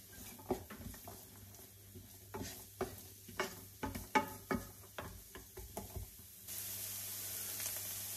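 Diced onion, a single small-diced one, goes into a pan for a budget fish curry and stirs with scraping knocks and soft sizzle; a steady frying hiss rises and holds toward the end, with no talk.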